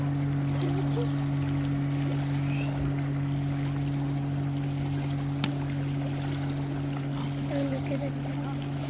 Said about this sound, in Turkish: Aa dalga oldu.